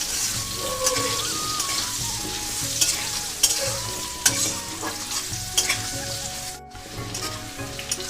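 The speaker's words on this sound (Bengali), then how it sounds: "এবার আমি কেটে রাখা আলুগুলো দিয়ে দেবো আলুগুলো হালকা করে একটু ভাজবো" Cut potatoes lightly fry in a pan with spices, giving a continuous crackling sizzle close up, punctuated by occasional scrapes and taps from stirring.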